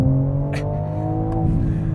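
A BMW all-wheel-drive xDrive sports car accelerates hard with a sustained droning engine note and steady whine, loud and close from inside the cabin.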